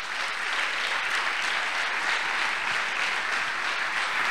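Sustained applause from an audience at a CSM Oradea sports club season presentation, dense and even clapping holding at a constant level throughout.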